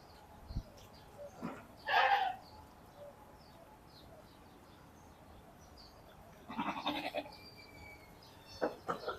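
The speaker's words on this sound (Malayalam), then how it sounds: "അതിനകത്ത് കുറേ ആടുകളൊക്കെ ഉണ്ട്" Goats of several breeds in a pen at Umm Al Emarat Park, Abu Dhabi, give a few short bleats at irregular intervals, moderately near, against a quiet outdoor background with faint bird calls.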